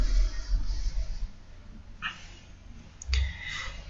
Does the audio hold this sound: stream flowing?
no